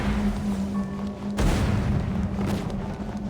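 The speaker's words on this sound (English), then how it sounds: "Explosions are never good unless you're the one started them." A deep booming explosion in Genshin Impact strikes sharply partway through over a humming background, followed by a rumbling tail, loud and without voices.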